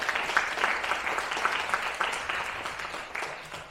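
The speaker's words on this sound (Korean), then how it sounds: "다시 한번 어, 인사 말씀해 주신 김태현 교수님에게 큰 박수 부탁드리겠습니다" Applause fills a university business-department scholarship ceremony, a steady patter of many hands clapping that fades gradually over a few seconds.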